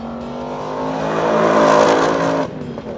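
A 2022 Ford Mustang Mach 1 V8 engine on a race circuit, loud and close, its harmonic roar climbing steadily in pitch under acceleration before dropping abruptly as the throttle lifts.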